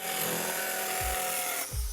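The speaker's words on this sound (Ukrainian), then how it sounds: "Як акуратно вона ріже плитку." A Rotorazer multi-purpose saw cutting tile, a continuous high-pitched whining grind with a steady motor tone, briefly dipping near the end with a couple of low thumps.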